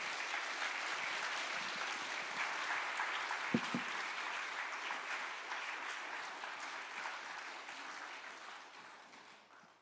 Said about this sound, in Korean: 목사님 나오실 때 우리 함께 귀한 박수로 맞이하겠습니다.